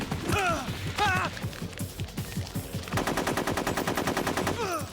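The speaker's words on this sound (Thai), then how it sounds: "นี่ปืนยาสลบ" Gunfire in Metal Gear Solid 3, with a tranquilizer gun among the weapons, crackles in fast bursts of shots over a dense game soundscape, with brief voiced calls near the start and end.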